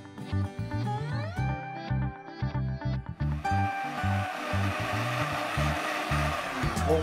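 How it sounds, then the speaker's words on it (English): A kitchen blender whirs in stop-start bursts while chopping a package of strawberries, then settles into a steadier, louder blending roar; the sound is close and fills the whole stretch without talk. "we have to put this package of strawberries into the blender"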